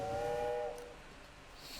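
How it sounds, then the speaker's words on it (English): A steam-style train whistle from the Railway Empire video game blows one sustained chord-like tone for under a second, then fades out into quiet background noise. "Oh, there's that train whistle again."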